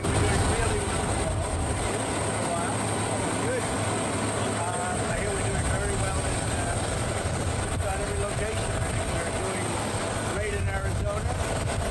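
Loud airplane noise right next to the listener outdoors, a constant roaring engine drone with a steady high whine on top, while someone talks over it throughout.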